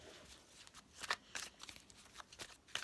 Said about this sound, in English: give the cards a bit of a shuffle.